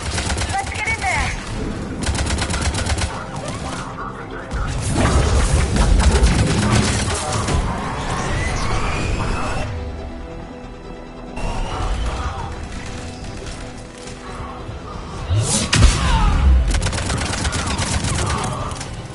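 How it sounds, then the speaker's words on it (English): Gunfire crackles in sustained bursts at a checkpoint in Mass Effect 3, loud and continuous with mechanical clatter, sharp impacts and swells of battle noise, while voices speak over it in places. "They're under fire!"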